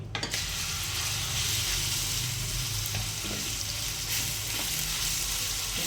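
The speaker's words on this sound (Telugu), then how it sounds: "మనం ఫస్ట్గా కలిపి పెట్టుకున్న చికెన్ ఇదైతే ఇందులో వేసేద్దాం" Chicken pieces fry in hot oil with cloves and cinnamon stick, a loud, dense, continuous sizzle with faint scraping stirs underneath.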